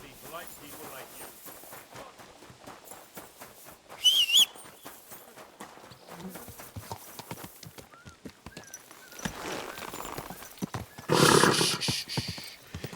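Horse hooves clip-clop steadily in the video game Kingdom Come: Deliverance 2, broken by two loud whinnying neighs, with voices speaking now and then over the trotting.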